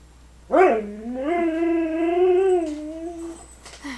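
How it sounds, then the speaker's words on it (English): A dog gives one loud, sustained vocal lasting about three seconds, more a howl or drawn-out whine than a sharp bark, close and alone. "Dog barking, please beware."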